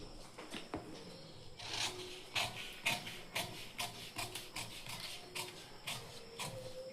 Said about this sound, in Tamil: இப்போ கட் பண்ணி எடுத்துக்கலாம்.